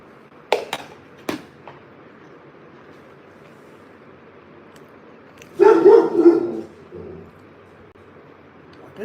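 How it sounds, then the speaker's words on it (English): A dog gives a few sharp, separate barks early on, then a louder, longer burst of barking a few seconds later, all against a quiet indoor background. "What is this dog barking at?"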